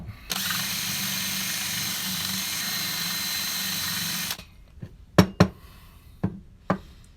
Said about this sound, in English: Just drilling it out.